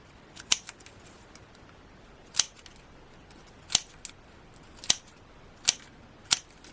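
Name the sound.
scissors cutting card petals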